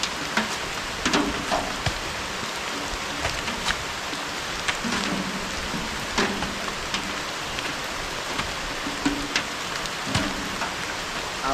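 Heavy rain pours down steadily, with scattered louder drops and splashes pattering close by throughout.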